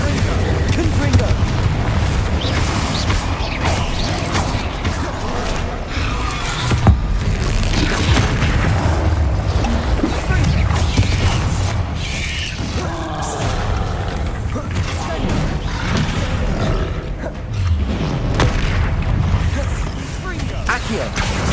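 Spell explosions in Hogwarts Legacy boom and crash repeatedly through a dense, continuous wash of combat noise, with heavy low rumbles and scattered impacts while a voice speaks over the action.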